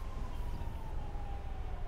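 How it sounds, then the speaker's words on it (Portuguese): Brazilian SAMU ambulance siren in the game GTA 5, a faint, steady wailing tone that holds almost level over a low rumbling background, heard alone without talk. "E a sirene é Samu, acabei de conferir."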